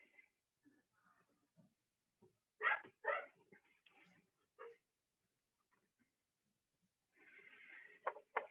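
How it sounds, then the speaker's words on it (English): A puppy barks and yips playfully in the background, with a few short bursts and a longer whimpery stretch near the end, faint and somewhat distant, amid quiet surroundings and occasional speech. "And you can hear the puppy having a grand old time in the background."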